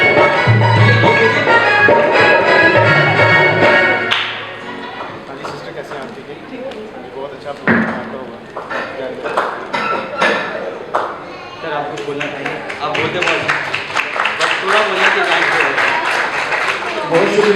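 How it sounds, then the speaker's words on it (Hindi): An audience at an International Nurses Day event in a Karachi church claps along, with bursts of applause rising and falling around a loud voice on a microphone, then building into sustained clapping near the end. "सबकी भरपूर तालियों में प्लीज़ क्लैपिंग करें"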